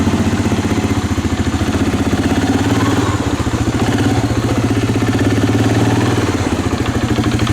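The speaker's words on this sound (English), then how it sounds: "so let's put it in reverse and we'll give it a little gas." A Suzuki Vinson 500 ATV engine runs steadily in reverse with a little throttle, a loud, close, even mid-pitched putter with a rapid regular pulse and no talk over it.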